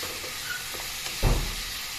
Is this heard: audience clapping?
no